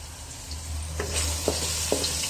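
Garlic sautéing in a hot pan for Christmas spaghetti gives a steady close sizzle, with a few soft stirring clicks of a utensil against the pan and no talking.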